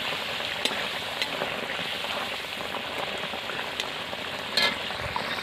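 Fried tari fish in an oily, spicy curry with coriander powder and garam masala is stirred in a pan, producing a continuous close hiss and sizzle with occasional light scraping clicks.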